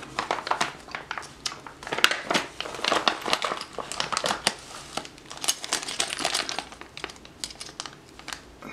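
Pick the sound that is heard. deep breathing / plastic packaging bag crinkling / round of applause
plastic packaging bag crinkling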